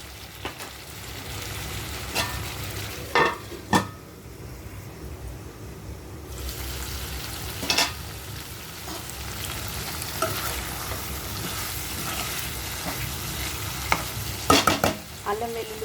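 Chicken coated in ginger-garlic paste fries in a pan while being stirred, with a constant close sizzle and repeated spoon scrapes and knocks throughout, including a cluster near the end.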